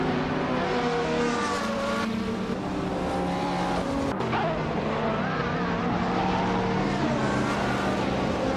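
Race cars at Weatherfield Speedway, including a classic 1998 Toyota M02 GTS, roar steadily with rising and falling engine whines, revving and passing close by, a continuous loud wall of engine noise with no talk.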